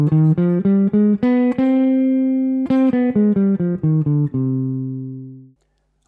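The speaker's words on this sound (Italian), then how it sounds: "minore armonica." Guitar notes of a C harmonic minor scale, single clear plucked tones rising then descending at an even pace, each ringing briefly, with the last note sustained and fading out alone.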